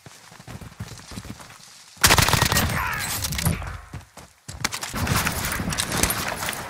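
Gunfire in the battle-royale shooter Warzone: a sudden loud burst of shots breaks in midway, then dense rapid fire continues after a brief gap, close and harsh, with scattered quieter shots before it.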